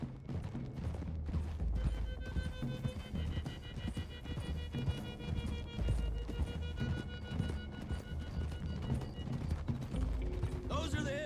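Galloping horse hooves in the western video game Red Dead Redemption 2 drum in a steady, dense clip-clop for the whole stretch, layered with game music and sound effects.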